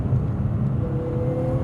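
A BMW E36 M3 Evo 2 engine pulls under throttle with a steady, close, low-pitched drone that holds even throughout, with no voices.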